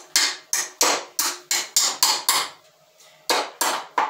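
A nail driven into wood with a Craftsman hammer: about eleven sharp, ringing blows close up, delivered in a fast, even rhythm with one brief pause partway through.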